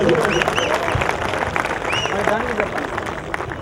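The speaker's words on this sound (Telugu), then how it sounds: "గట్టిగా చప్పట్లు సార్ నిసారన్నకు." A rally audience in Telangana claps for a singer, a dense, moderately loud patter of many hands running throughout, with voices and whistle-like cries mixed into the crowd noise.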